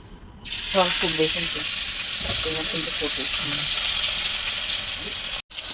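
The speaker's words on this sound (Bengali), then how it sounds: "কড়াইতে এখন মাছ ভাজতে দিয়ে দিয়েছে আর মাছ ভাজা হচ্ছে" Loud, steady sizzle of koi fish (climbing perch) rubbed with salt and turmeric frying in hot oil in a wok, a constant crackling hiss with brief stirring sounds near the start.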